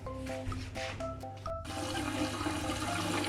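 Running water splashes continuously as rice is washed for vegan hosomaki sushi, a steady close rush with no talking; an early stretch carries musical tones before the water noise takes over.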